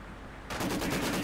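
Maxim machine gun fire in Company of Heroes 2 bursts in after half a second of quiet and continues as a loud, rapid, steady stream of shots to the end.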